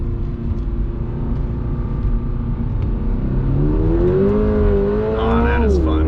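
A 2022 Subaru BRZ engine revs and climbs through the gears while driving, its rising and falling tone loud and steady with brief shifts, under passengers talking.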